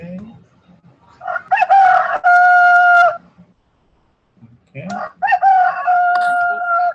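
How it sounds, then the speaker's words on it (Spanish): A rooster crows twice, each a long drawn-out cock-a-doodle-doo separated by a pause, close and loud, with a brief spoken word in between. "Gallo."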